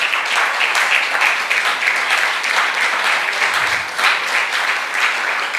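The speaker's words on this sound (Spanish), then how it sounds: "Dale un aplauso a los papás que están aquí." Congregation in a church applauding fathers, a continuous, full round of clapping from many people that stays loud and even throughout, without speech over it.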